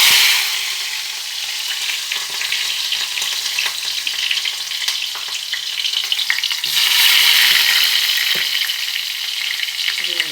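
Onions, chillies, mustard seeds, cumin and urad dal sizzle in hot oil while cooking tomato dal, a loud continuous frying crackle with stirring scrapes that swells again toward the end.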